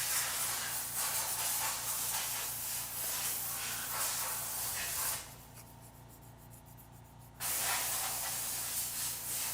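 An air compressor in use in a repair workshop produces loud, broadband hissing that fills most of the stretch, drops away for about two seconds midway, then resumes just as strongly.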